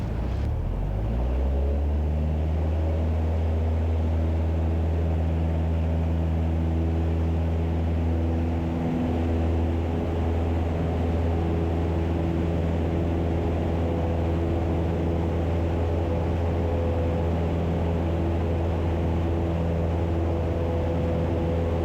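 A small propeller airplane's engine spools up to full power for takeoff, a loud, steady droning hum with rising harmonics that settles into a constant roar throughout.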